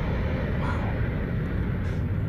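Four-engine Pratt & Whitney-powered airplane taking off, a loud, steady low roar that holds constant throughout, echoing over a valley with no talking.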